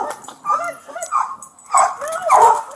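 A dog barks, yips and whimpers close by during a tense encounter with a police officer at a house entrance, its bursts coming in uneven waves while someone talks over it.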